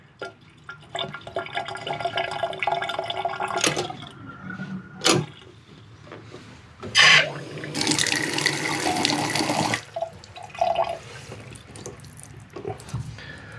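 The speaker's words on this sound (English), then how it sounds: "I can hear it draining just a little bit, and I can see it draining right there" Water from a bathtub with a trip lever drain sloshing and gurgling close by, with irregular splashy bursts and a louder rushing stretch in the middle before it settles to a quieter trickle.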